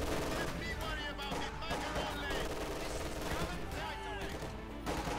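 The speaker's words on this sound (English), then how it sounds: "If Johnny there could stop being so bloody skittish with the machine gun" Rapid machine gun fire and scattered gunshots from a 1v1 Company of Heroes 2 match, dense and loud throughout, with a commentator's voice talking over the battle.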